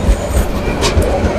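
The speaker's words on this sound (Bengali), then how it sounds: "এই আইতেছে এই ট্রেন আইতেছে" A train passes close by at Tongi railway station in Dhaka, its loud, steady rumble heavy with low, thudding wheel beats and a brief hiss of noise on top.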